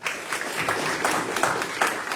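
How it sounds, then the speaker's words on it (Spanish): An audience at an academic book talk gives a short round of applause, a steady dense patter of many hands clapping at moderate volume for a couple of seconds. "Un aplauso para él."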